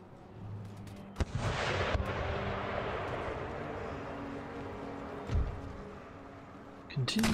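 Cannon fire from a battle in the strategy video game Empire Total War, with sharp booming shots near 1.2, 2 and 5.3 seconds over a sustained battle rumble, a voice speaking faintly underneath.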